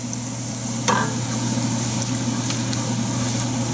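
Cumin seeds and chilies hit hot oil with a sudden crackle, then a steady close sizzle runs on over a low constant hum from the stove, with a few light scrapes from stirring.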